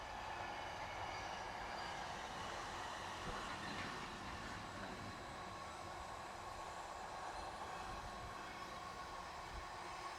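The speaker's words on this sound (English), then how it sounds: "And look, it's a train with nothing on it." An empty freight train rolls past nearby, a steady, loud, continuous rumble of wagons with no break or voices throughout.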